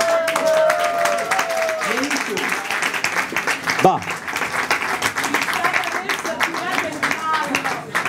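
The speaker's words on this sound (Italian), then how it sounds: "Possiamo fare un applauso a Lorella" An audience at a Milan music presentation claps steadily through the whole stretch, with a voice speaking briefly over the applause.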